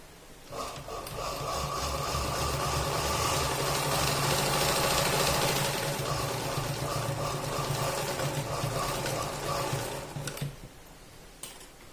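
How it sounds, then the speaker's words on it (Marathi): A sewing machine stitching a small fabric pocket for a cloth bag made from leftover blouse material, running in one steady whirring, clattering burst for about ten seconds, close by, then stopping, with no speech. "असा फोल्ड करून आपल्याला तिन्ही बाजूला शिलाई मारून घ्यायची"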